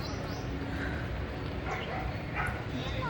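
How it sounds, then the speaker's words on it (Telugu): Several dogs at an outdoor dog show on Necklace Road yelp and bark continuously in a busy crowd, with a person talking over the noise. "మస్తు ఉన్నాయి కుక్కలు,"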